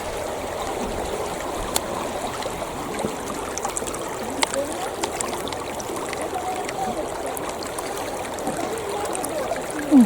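River water flowing steadily outdoors, a continuous close wash and trickle with a few faint splashes, steady in level throughout, with no talk over it.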